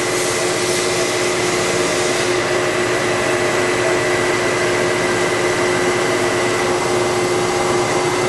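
A 66-inch Producto CNC vertical drill and bore machine runs its Y-axis toward home, a loud, steady broadband whir with constant tonal hum lines that holds unbroken throughout, with no talk.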